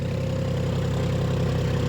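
A tractor engine running steadily at low RPM while ploughing a field. The drone is loud, close and rhythmic, with low pulsing and mechanical clatter, and no voices.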